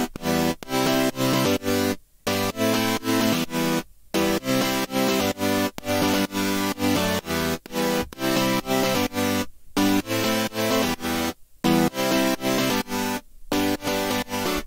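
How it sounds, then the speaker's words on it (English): Supersaw synth chords with the lows cut and the highs boosted, bright, buzzy sustained chords in a repeating rhythmic pattern, loud and alone, with short silent gaps between phrases. "Yes, just a mini synth, a super saw, and just cut at the low frequencies and boost the high frequencies"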